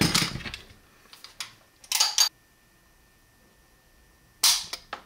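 A Springfield Armory 1911 pistol is dry-fired, its trigger breaking with sharp, crisp metallic snaps, three or four distinct clicks spaced by silence, heard close up without talk.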